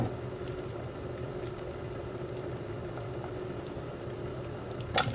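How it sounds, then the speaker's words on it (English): Cranberry sauce sweetened with honey coming up to a simmer in an Instant Pot Duo Plus: a steady low bubbling and hiss held at an even level, with a brief sharper clink near the end. "You can see it's just starting to come up to a simmer"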